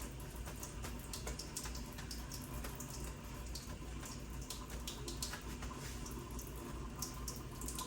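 A faucet runs during hand washing, a steady close hiss of flowing water with faint splashes and drips throughout, quiet and uninterrupted by speech.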